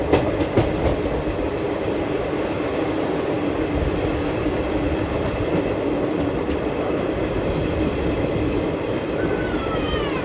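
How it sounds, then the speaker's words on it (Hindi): From aboard an express train, a continuous loud rail rumble and clatter rolls on as a WAP7 locomotive hauling the Sainagar Shirdi–Kakinada Port Express passes in the other direction. Wheel squeal rises near the end. "तो यहाँ हमारी क्रॉसिंग हो रही है WAP7 के साथ Kakinada port, Sainagar Shirdi Kakinada port express के साथ।"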